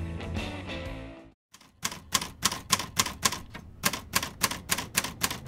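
Rapid, close clacking of an old manual typewriter, a steady run of crisp key strikes after a short burst of other sound and a brief silence.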